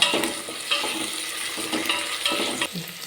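Onion and tomato sautéing in a pan for a green peas curry, a steady sizzle broken by several rhythmic spatula stirs and scrapes against the pan, close and clear.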